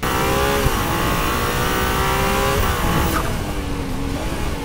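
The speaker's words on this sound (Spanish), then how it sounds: "El sonido del V6 es como un bramido cuando se pisa a fondo" A Ferrari 296 GTB with its V6 engine revving hard sounds close and loud, in a sustained rising roar with shifting engine tones and a brief spike in pitch before it eases off slightly.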